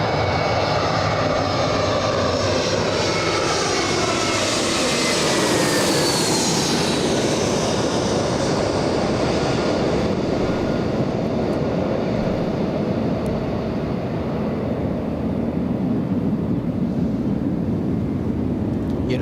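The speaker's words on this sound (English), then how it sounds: "JetBlue flying in from JFK," A JetBlue jet airliner arriving at LAX after a flight from JFK, its engine roar swelling loud and close with a descending whine as it passes, then a steady broad rumble fading slowly, with no talk.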